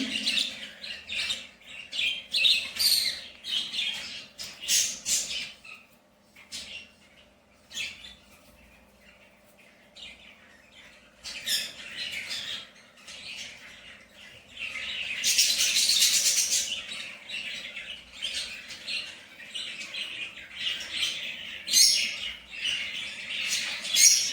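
Budgerigar chicks in a large cage chirp and tweet in dense, high bursts throughout, with a louder cluster of calls in the middle and a few wing flutters, no voices.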